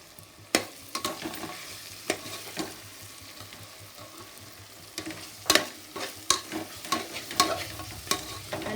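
A spoon stirs mint and coriander into a frying mushroom biryani masala in a pot, giving soft scraping strokes and occasional sharp clinks over a quiet background sizzle.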